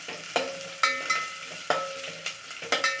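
Garlic, small onion, mustard seeds and curry leaves fry in a pan, a hissing sizzle punctuated by several sharp spatula taps and scrapes at an irregular pace.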